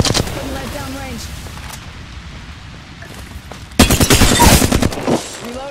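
Bangalore opens fire in Apex Legends, a sudden loud burst of rapid automatic shots lasting under two seconds after a quieter stretch of distant battle noise.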